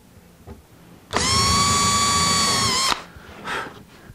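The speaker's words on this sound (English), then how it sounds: "Like so, and then we drill." A handheld power drill whines at high speed for about two seconds, boring a shallow hole in a wooden file and chisel storage rack in a workshop, with quiet handling noise before and after.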